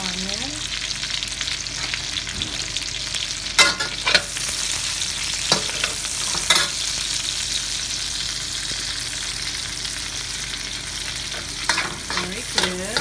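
Onions sauté in a pan with leftover pork and Spam oil, a steady close sizzle and frying hiss broken by occasional scraping stirs and clinks of a utensil.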